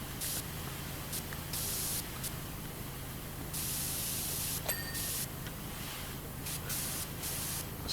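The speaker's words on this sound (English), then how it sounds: "Spraying down lights." Pressure washer spray from the video game PowerWash Simulator, set in a haunted house: a steady broad hiss of water jetting that cuts in and out in bursts, close and loud throughout, with no talking.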